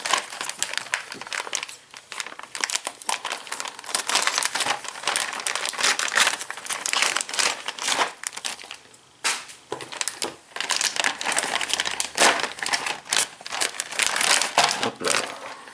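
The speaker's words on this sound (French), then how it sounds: "on va déballer les pièces" Parts for a 1/8 scale Eaglemoss Ecto-1 model kit are unwrapped from their packaging, with continuous close crinkling and crumpling of plastic and paper in irregular bursts and no voices.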